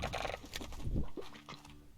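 Chickens in the Slime Rancher video game give a short burst of clucks and squawks, several quick calls layered close together over about two seconds.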